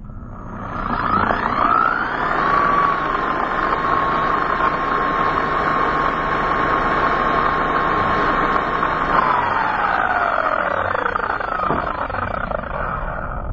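A Bauer 6-inch random orbit polisher on speed setting 4 runs in the air with no pad contact. Its motor whine climbs quickly, holds a loud, steady pitch for several seconds, then winds down as it coasts to a stop.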